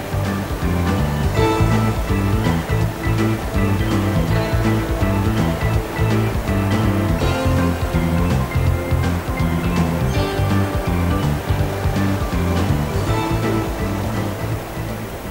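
A mountain torrent roars near a waterfall, a loud, constant wash of rushing water that fills the whole stretch without pause and with no voices over it.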